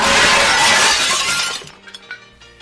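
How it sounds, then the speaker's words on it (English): A mirror behind a bar shatters with a loud, sudden crash of breaking glass, followed by scattered tinkling shards falling and settling over the next second; no voices. "The mirror behind the bar suddenly shattered as if someone had thrown a bomb at it."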